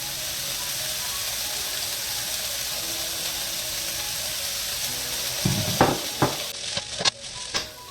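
Frozen corn, peas and carrots hiss and sizzle steadily in a hot pan, with a few louder clinks and scrapes of stirring near the end.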